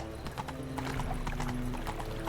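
Horse hooves clip-clopping on the streets of Novigrad in the Witcher video game, a steady trotting rhythm of hoof strikes with a soft whinny amid a busy city ambience.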